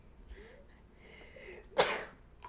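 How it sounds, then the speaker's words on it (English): A single sharp sneeze bursts out close and loud near the end, preceded by a quiet breathy buildup, with no talking alongside. "Oh my gosh, I gotta sneeze."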